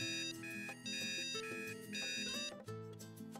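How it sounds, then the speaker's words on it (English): A phone ringtone from the game Hush Hush plays as a bright, repeating melodic chime over a rhythmic musical backing, steady and clear for a few seconds without any talking. "Was that your phone?"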